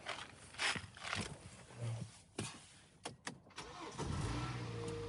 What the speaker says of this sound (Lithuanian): Mašina užsiveda.